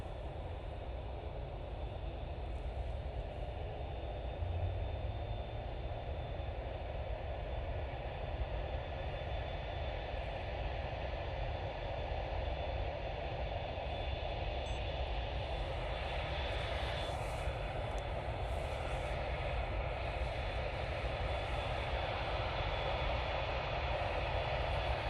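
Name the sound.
Emirates airliner full-length takeoff at Manchester Airport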